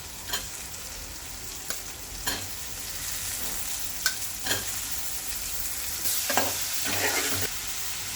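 Washed, cut mushrooms fry with turmeric in a pan for an Andhra-style tomato curry, with a constant sizzle and occasional spoon scrapes and clinks as they are stirred, growing busier toward the end.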